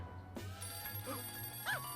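A telephone rings in the Sam & Max adventure video game (Culture Shock, 2007), a steady electronic bell tone held for about two seconds, clear and close over a quiet low background hum.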